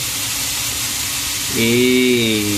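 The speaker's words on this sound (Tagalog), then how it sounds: "habang piniprito natin ng konti itong ano na to" Frying hiss from a pan of chicken being cooked for Filipino sweet corn soup (nilaras na mais), steady and close, with a tonal hum and voice-like harmonics rising in the second half.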